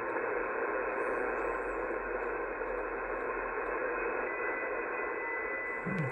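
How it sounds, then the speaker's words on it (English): Shortwave receiver hiss from an SDRPlay RSP1A tuned across the 11–12 MHz band: a steady, loud wash of broadband static with a fluctuating noise floor and faint tonal whines, continuous for the whole stretch. "Noise floor jumping around."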